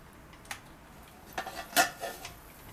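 Metal clatter of a pressure cooker lid being opened after releasing pressure, cooking beef, several short clanks and scrapes at close range with a brighter clink near the end, no speech.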